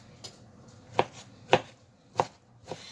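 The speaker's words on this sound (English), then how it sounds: "All this chopping is just because you're gonna add it to the soup" A knife chops ingredients for seafood soup on a cutting board, giving four or five distinct, steady knocks about half a second apart, close and moderately loud.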